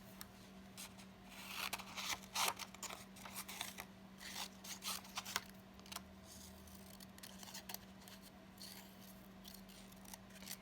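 Scissors cutting a shape out of black paper, a run of crisp snipping and paper rustling at close range, irregular and fairly quiet over a steady low hum.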